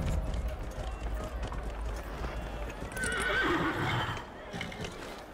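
A horse in Dragon Age Inquisition gallops with quick clip-clopping hooves, then lets out a clear whinny partway through, with game ambience underneath.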